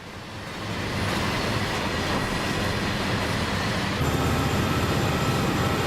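A simulated underpowered train in Train Sim World 5 labours up a westbound grade on the SPG route. Its steady, loud rumble swells over the first second and then holds evenly, with no talk.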